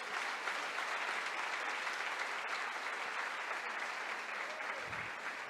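A church congregation applauds steadily, a dense even patter of many hands clapping at moderate distance for several seconds.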